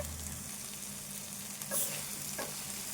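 Prawns and softened tomato fry in a pan for a prawn curry, a soft continuous sizzle with a couple of brief scraping stirs, quiet and close, no voices.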